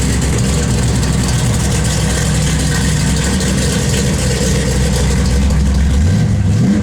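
A 1972 Chevrolet Chevelle SS V8 rumbles steadily at idle, deep and loud and close by, with a slight rise in revs toward the end and no voices over it.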